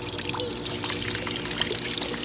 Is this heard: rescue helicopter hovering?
no